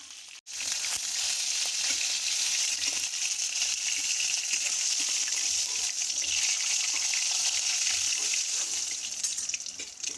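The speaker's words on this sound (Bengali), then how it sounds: "এবার আমরা সবজিগুলো ভালোভাবে ভেজে নেব" Vegetables, starting with eggplant, hit hot oil used for hilsa fish curry. A loud, dense sizzle starts abruptly and holds as a steady roar for several seconds, with no talking.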